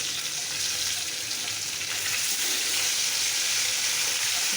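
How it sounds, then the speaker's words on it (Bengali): Fish frying in a pan gives off a steady, dense sizzle with a continuous crackle and hiss that stays constant throughout, with no voices. "এখানে মাছটা ভেজে নিচ্ছি।"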